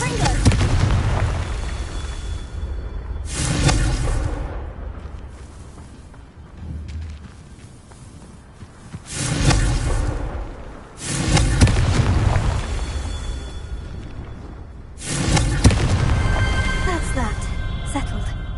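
Confringo spell blasts in the video game Hogwarts Legacy, several deep booming explosions landing in bursts a few seconds apart, each followed by a rumbling tail, with someone speaking over the action.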